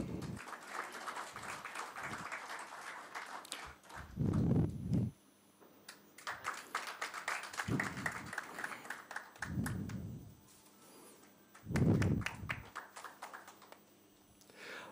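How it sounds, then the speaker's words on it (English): Scattered, fairly faint clapping from an audience honouring a guest at a felicitation function, with sharp individual claps and intermittent denser bursts. "A big round of applause for..."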